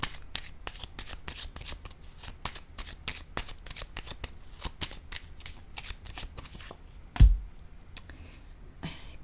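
Tarot cards are shuffled in a steady run of crisp, rapid riffling clicks, close and fairly loud, followed by a single heavier thump as a card is laid down on the table, then quieter handling.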